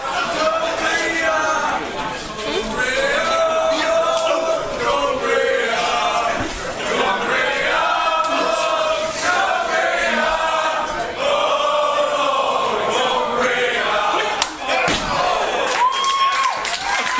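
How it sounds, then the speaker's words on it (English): Wrestling crowd at the Frog and Bucket singing a serenade to the challenger, many voices chanting loudly in rhythmic, melodic phrases with cheers and shouts mixed in throughout. "A serenade from the crowd here at the Frog and Bucket to the challenger"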